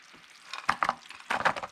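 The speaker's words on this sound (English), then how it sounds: "And you'll just keep stirring and stirring. We want for all of that sugar to be melted." Sugar and water are stirred in a pan for candied pecans, making a few short scraping, sizzling strokes, close and quiet between the bursts.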